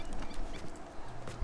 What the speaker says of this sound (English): I just scared off all your horses